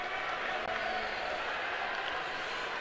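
Indoor track crowd at Boston University's Track and Tennis Center cheers during a 5,000m race, a steady, distant wash of crowd noise under an announcer's commentary.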